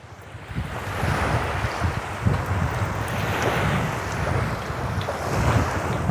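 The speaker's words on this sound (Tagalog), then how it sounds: "Sunduin ako ng bangka." A motorboat runs steadily over open sea, its low engine rumble mixed with rushing wind and the wash of waves, close and continuous.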